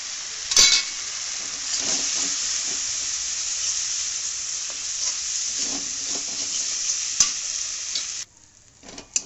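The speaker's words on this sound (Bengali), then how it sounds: "এবার আমি শুকনো গুঁড়ো লঙ্কাগুলো দিয়ে দেবো, শুকনো মশলাগুলো একসঙ্গে দিয়ে দেবো।" Tomato frying in a pan with dry ground chilli and spices, a steady loud sizzle with stirring scrapes throughout, a sharp clink near the start, then cutting off abruptly near the end.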